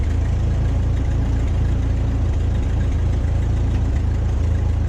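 A Ford 8N tractor with a front loader idling up close, its engine a steady, loud low throb with an even mechanical chug throughout, no voices over it.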